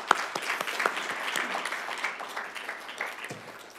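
Applause from an audience at a research seminar on prisoner reentry, a crowd of hands clapping steadily for a few seconds at moderate distance, with no talking over it.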